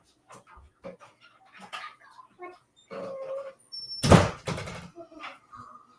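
A door slams shut indoors, one loud sharp bang about two-thirds of the way through, surrounded by scattered speech and other household noises before and after.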